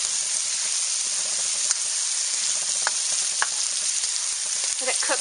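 A large batch of onions caramelizing in a wok for a Norwegian casserole sizzles steadily and close by, with a few sharp pops and stirring scrapes breaking through the constant hiss.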